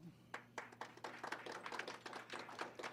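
An audience at a Board of Education regular meeting claps for student honorees, giving a run of moderately dense, fairly quiet handclaps that keeps going steadily throughout.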